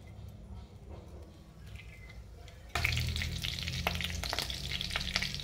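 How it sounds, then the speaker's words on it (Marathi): Curry leaves crackling in hot oil in a kadhai, quiet at first and then a sudden loud, dense sizzle with sharp pops as they hit the oil. "कढीपत्ता आपला छान तडतडलेला"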